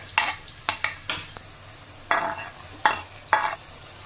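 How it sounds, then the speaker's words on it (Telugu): Sliced onions, four green chilies and tomatoes frying in hot sunflower oil, heard as bursts of sizzling with a few clinking stirs against the pan, separated by quieter gaps, close up and no talking. "నూనె వేడెక్కాక సన్నగా తరుగు పెట్టుకున్న ఉల్లిపాయలు, 4 పచ్చిమిరపకాయలు, టమాటాలు వేసుకోవాలి"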